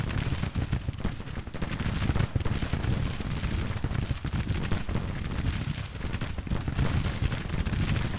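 Grand Tactician: The Civil War battle, with Civil War artillery and massed musket fire rolling in a dense, continuous din of crackling volleys and deep booms that never lets up.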